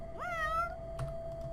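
A single cat meow in the video game Fausts Alptraum rises and falls clearly, followed by a soft thump, over a constant steady tone in the background.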